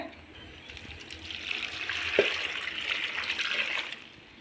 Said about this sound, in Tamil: இது மாதிரி கொஞ்சம் அகலமான பாத்திரத்தில் போட்டு தண்ணி ஊற்றிக்கங்க